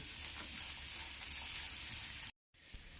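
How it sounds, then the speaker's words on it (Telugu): Peas chaat with chaat masala being stirred in a pan, giving a steady soft sizzle and scraping hiss that runs continuously before a brief cut, then resumes faintly. "ఇలా అంతా కలయిదిప్పుకోవాలి"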